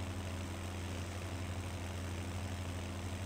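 Steady low engine idle from a tractor in the farming game Landwirtschafts-Simulator 17, an unbroken droning hum with a constant low tone, heard alone without talk.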